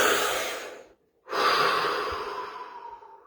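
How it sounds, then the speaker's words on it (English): A deep breath: a long, loud airy exhale close to the listener, then a short pause and another long, slowly fading breath, with no speech. "This first time through 15 seconds, deep breath followed by 15 seconds of absolute stillness."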